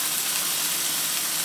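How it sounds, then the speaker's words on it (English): Steak laid into a hot, oiled pan gives off a loud, continuous sizzle, a bright steady hiss of frying that fills the short moment without any speech. "Go ahead and lay your steak in, making sure to lay it away from you"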